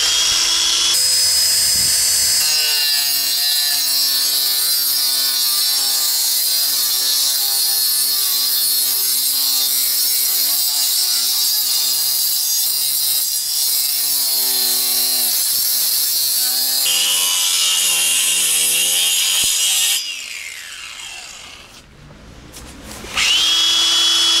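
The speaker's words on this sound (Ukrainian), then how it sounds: "Сейчас мы попробуем диск вольфрамовый с деревом, с гвоздем." An angle grinder fitted with a 125 mm tungsten carbide disc cuts through wood with an embedded nail, giving a loud, sustained high whine that shifts in pitch as it bites, then spins down and revs briefly at the end.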